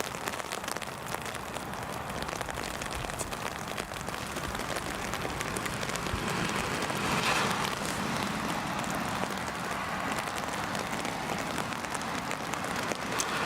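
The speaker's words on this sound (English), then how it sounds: "The rain is easing, folks." Steady rain falls at Newcastle International Airport on a windy day, a dense even hiss of drops on hard surfaces that stays constant and fairly loud throughout, with no voices over it.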